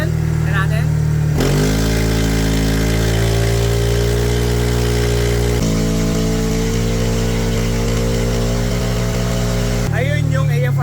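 A car fitted with an aftermarket exhaust pipe is revved hard at full throttle, its engine holding a loud, sustained roar that climbs and steps through two long pulls before settling back toward idle.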